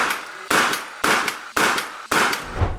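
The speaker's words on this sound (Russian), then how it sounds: "Газовый монтажный пистолет" Four sharp, evenly spaced bangs from a GCN-40F gas nail gun firing, each a loud metallic crack with a short ringing tail.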